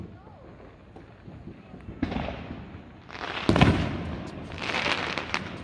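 Fourth of July fireworks go off outdoors, with several sharp bangs and crackling bursts spread over a few seconds at moderate distance, while people talk nearby.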